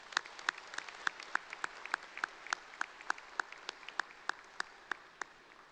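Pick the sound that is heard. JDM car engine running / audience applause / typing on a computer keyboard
audience applause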